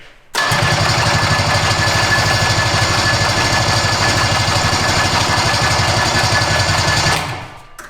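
An old snowmobile engine, abandoned for about 20 years, cranks and roars loud and steady with a rapid mechanical chatter for nearly seven seconds before cutting off, with no talking over it.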